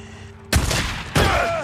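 Two sharp, loud gunshot bursts in the PS5 game Days Gone, the first about half a second in and the second roughly six-tenths of a second later, each decaying into a short ringing tail.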